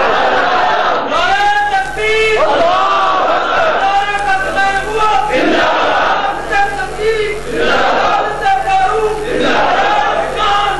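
A large crowd at a religious gathering in Gujranwala chants slogans in loud, sustained call-and-response waves, the massed voices rising and falling for the whole stretch.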